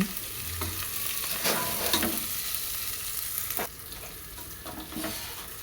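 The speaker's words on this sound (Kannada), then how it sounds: "ಮಸಾಲೆ ರುಬ್ಬಕ್ಕೆ ಅಂತ ಹೇಳ್ಬಿಟ್ಟು ಫ್ರೈ ಮಾಡ್ಕೊತಾ ಇದ್ದೀನಲ್ಲ ನೋಡಿ ಈ ಥರ ಫ್ರೈ ಆಗಿದೆ" Masala spices frying in a pan before being ground, a soft continuous sizzle with occasional spoon stirs and scrapes close by, no speech.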